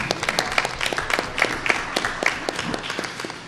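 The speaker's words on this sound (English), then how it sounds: "Let's give them a big round of applause." An audience at a school board of education meeting applauds, a moderate wash of scattered clapping that stays fairly even, heard from a little distance in a large room.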